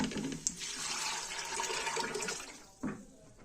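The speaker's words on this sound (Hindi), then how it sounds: "और साथ ऐड कर दूंगी पानी।" Water pours into a pot of chickpeas with garlic, onion and ginger in a home kitchen, a brief close splashing stream lasting a few seconds.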